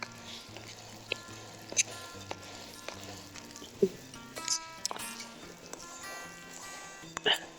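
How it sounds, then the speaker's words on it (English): A big spoon stirring batter in a bowl that is turned while mixing, soft scraping and wet swishing with a few sharp knocks against the bowl, heard faintly under a person talking. "I stir this together. Kind of rotate my bowl as I'm stirring"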